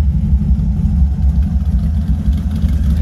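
A 1934 Ford three-window coupe with a ZZ4 engine idles through polished Flowmaster mufflers, a deep, steady, loping rumble close by with slight pulsing, heard alone without talk.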